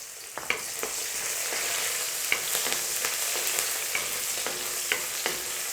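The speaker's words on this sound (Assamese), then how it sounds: "এতিয়া তেল আছে মোৰ মাছ ভজা, গতিকে তাতে মই পিঁয়াজখিনি ভাজি লওঁ।" Onions frying in mustard oil left over from frying fish, a steady close sizzle with clinks of stirring scattered throughout, with no talk.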